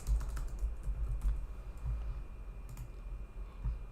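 Keys on a computer keyboard are tapped in an irregular run of quick, light clicks, close by and fairly quiet, with no voices.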